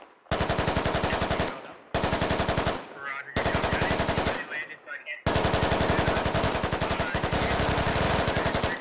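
Sustained automatic gunfire from the military shooter game Squad, loud, close bursts of rapid regular shots separated by short gaps, with distant reports trailing between them.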